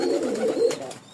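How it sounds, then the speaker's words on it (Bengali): A large pigeon gives a single short, soft, close coo. "কবুতরের ডাক সহ দেখাই দিলাম"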